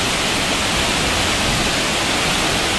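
Broad, steady roar of the Matabuntu waterfall in Indonesia, a constant dense rush of falling water heard up close and loud throughout, with no voices.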